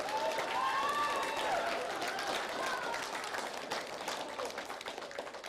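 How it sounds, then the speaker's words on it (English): Youth football players at a 6U national championship media day applaud themselves, giving steady clapping that fades slightly toward the end, with a voice heard over it at the start. "give yourselves a round of applause as y'all are fighting for the national championship."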